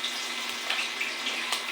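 Fish, a broad dalagang bukid, frying in a pan, giving a steady, fairly quiet hiss and sizzle with small crackling bursts throughout and no talk.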